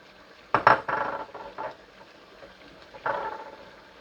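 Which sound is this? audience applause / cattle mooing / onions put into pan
onions put into pan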